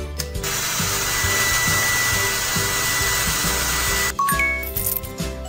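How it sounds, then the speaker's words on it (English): A hair dryer blows with a steady, loud electronic whoosh for about four seconds during a girls' makeover video game, then cuts off into light game jingles and chimes. "Let's dry my hair."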